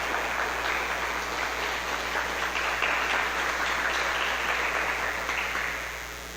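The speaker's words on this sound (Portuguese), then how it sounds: "é uma linda salva de palmas, Senhor" Congregation in a church service applauding together, a dense steady wash of many hands clapping at even loudness for several seconds before tapering slightly at the end.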